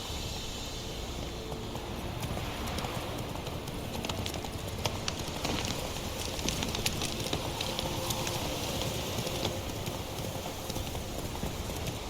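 Roach the horse gallops in The Witcher 3, a steady clip-clop of hooves running on through a dense ambient game soundscape for the whole stretch.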